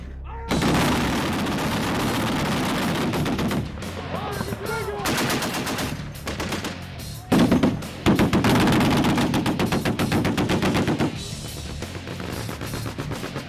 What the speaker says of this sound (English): dozen 50 calibers firing at once literally shakes the flak jackets and helmets of the instructors.